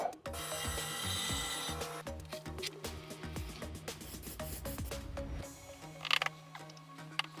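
A knife blade is drawn repeatedly across sandpaper fixed to a melamine board, making close, rhythmic rasping and rubbing strokes with a few clicks near the end.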